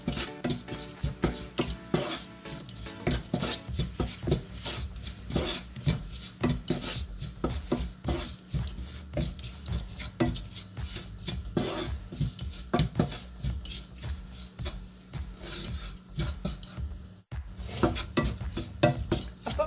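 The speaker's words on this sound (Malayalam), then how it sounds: "ഇനി നന്നായിട്ടൊന്ന് മിക്സ് ചെയ്യാം" A spoon scrapes and stirs garam masala spices in a cooking pan with rapid, continuous rhythmic strokes and clinks, close and steady throughout, with no voices.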